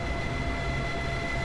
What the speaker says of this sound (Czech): Co říkám, co to je za zvuk, a to je vlak.